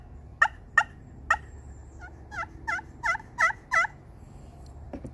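A wooden turkey call striker, snakewood and acrylic, scraped on slate gives three sharp clucks, then a series of soft, rolling purrs, close and clear with no talking.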